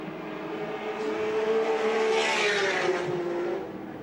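Australian Touring Car Championship cars race at Lakeside in 1984, engines howling loudly as they pass, with the pitch rising then falling away.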